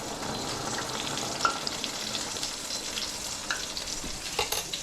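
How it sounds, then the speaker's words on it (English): Parsnips fry gently in a pan over low heat with a soft, continuous sizzle, broken by a few small clinks and stirring sounds. "My parsnips are being fried on a low heat"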